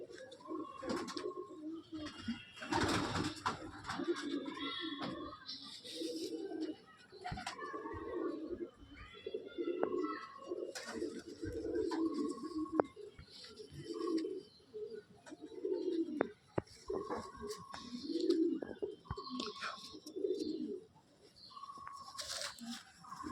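Pigeons coo in a loft in repeated low throaty bursts separated by short pauses, fairly close but soft, with occasional chirps and faint rustling between calls.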